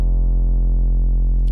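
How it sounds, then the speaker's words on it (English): An 808 bass synth patch built in Serum with distortion added plays as one loud, sustained, deep bass note rich in stacked harmonics, holding steady for the full stretch with no talk over it. "And finally, we're again adding a bit of distortion."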